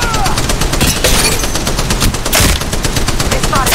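Sustained automatic fire in Apex Legends Mobile, loud near bursts of shots with a sharp crack near the middle, game effects layered underneath and faint talk in the background.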